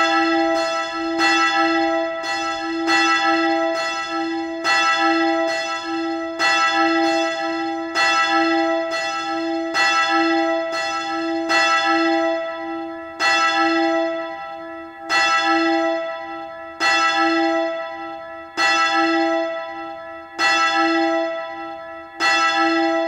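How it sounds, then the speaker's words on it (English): A single treble bell in a Roblox bell tower game rings over and over at a steady, slow pace, each bright clang hanging and fading before the next strike. "So as you can hear, a very pleasant sounding bell."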